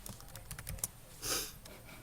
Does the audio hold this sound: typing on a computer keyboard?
yes